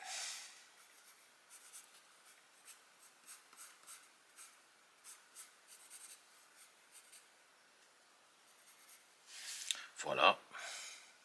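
Pencil sketching a character on paper, soft scratchy strokes in short bursts, close and quiet, ending in a louder rubbing sweep.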